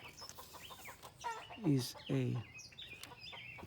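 Backyard roosters crow twice in loud rising calls in the middle, with softer clucking of fowl and a person talking quietly around them outdoors.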